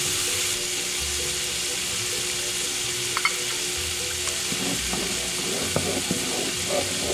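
Salsa and melting cream cheese sauce sizzles steadily in a pan over medium-low heat while being stirred, with a continuous close frying hiss and occasional soft scraping and clinking of the utensil.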